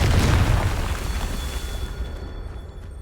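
A Confringo spell explodes in Hogwarts Legacy with a single deep, heavy boom that rumbles and fades over a few seconds, alone and loud.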